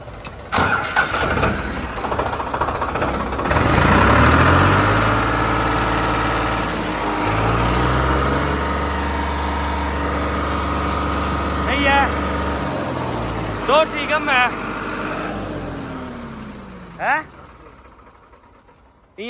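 A Farmtrac 45 tractor engine cranks and starts, then revs up to a loud, sustained roar before dropping back, with people talking nearby over the engine.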